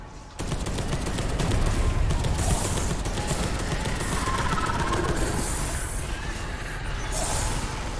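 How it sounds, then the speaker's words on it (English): Missile launcher fire in the Space Hulk Deathwing game comes as a dense, sustained barrage of gunfire-like blasts and rumble, loud and continuous across the whole stretch. "Warning, missile launcher."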